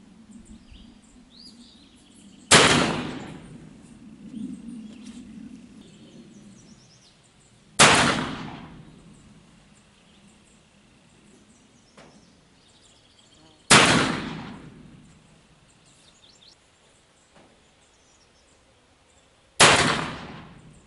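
An 1858 Pietta black-powder revolver fires homemade powder loads outdoors: four loud, sharp reports spaced roughly five to six seconds apart, each with a ringing, fading tail, and faint birdsong between shots.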